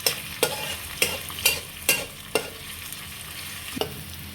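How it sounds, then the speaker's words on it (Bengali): Chopped onions with cumin and bay leaves frying in oil in a wok for a mutton and chana dal dish, a close sizzle punctuated by about eight sharp spatula scrapes at a steady rhythm, with no voices. "এখন আমি তেলানির এই পেঁয়াজ কুচিটাকে বাদামি করে ভেজে দেব।"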